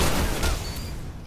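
A single sharp gunshot rings out in the Destiny video game, loud and close, and its boom decays quickly into a fading tail.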